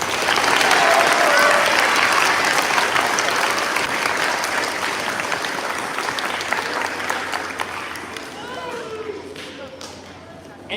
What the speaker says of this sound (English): Let's give them one more clap, folks.